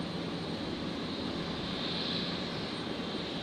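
An Alliance Embraer 190 jet arriving from Darwin at Brisbane Airport hums with a steady, distant engine whine and rumble, fairly faint and unbroken.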